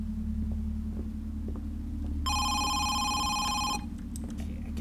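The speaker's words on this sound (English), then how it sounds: "I think it's the phone ringing from downstairs because I can hear it through the walls because this is a video game" A telephone rings from downstairs inside a video game house, a bright electronic bell trill lasting about a second and a half, heard muffled as if through walls over a steady low hum.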